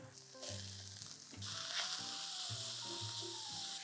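Chopped leek and garlic sizzle and fry in a hot pan, a steady bright crackle that swells louder partway through, with occasional stirring scrapes and no talking.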